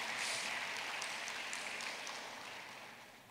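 Faint, distant applause from a university student audience at an entrepreneurship program session, a soft, steady patter of clapping that gradually dies away.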